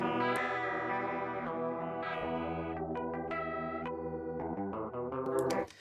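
A spatial chorus effect spreading a sustained instrumental signal across the stereo field, with shimmering, widening tones that swell continuously and evenly, played alone without talk.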